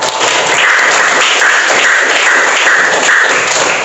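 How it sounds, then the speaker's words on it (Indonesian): Applause from a class of students fills the room steadily and loudly, a dense continuous patter of hands with no pauses, heard close and on its own. "Tepuk tangan untuk kalian semua."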